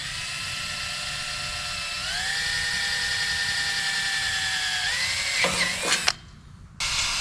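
A power drill boring pilot holes for roof rack bolts, with a steady loud whine that climbs in pitch, then strains and cuts off briefly before spinning up again, close by.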